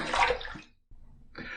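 Water splashes in a sink while rinsing after a shave: a short burst of running and splashing, a brief pause, then the water starts again, fairly quiet.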